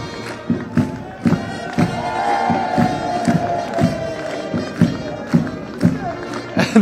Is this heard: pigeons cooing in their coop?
no